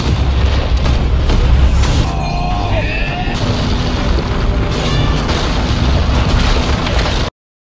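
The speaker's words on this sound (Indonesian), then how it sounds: "Ledakan besar pun tercipta dari pertarungan mereka berdua." A big explosion from a fight in an animated donghua booms and rumbles continuously, with crashing bursts, whooshing effects and a groaning voice in the chaotic, loud mix before it cuts off.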